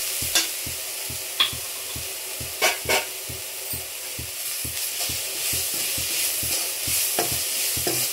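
Onion and ground green chili paste fry in a pan while a spatula stirs in steady, regular scraping strokes over a continuous hiss and sizzle, with a few louder knocks against the pan.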